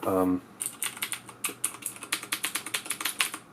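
Rapid clicky keystrokes from a CM Storm QuickFire Rapid mechanical keyboard with Cherry MX Blue switches, close and crisp, coming in quick irregular bursts that become a steady run, just after a brief sound at the very start.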